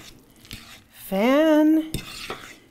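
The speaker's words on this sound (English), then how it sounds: "we're going to give this another little stir" Guacamole with cumin is stirred in a bowl, with close clinks and scrapes of a utensil, and a short, bright sustained squeak in the middle.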